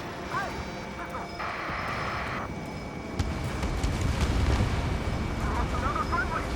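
Missile explosions in the flight combat game Ace Combat 7, heavy rumbling booms and bursts rolling continuously beneath jet noise and urgent radio voices.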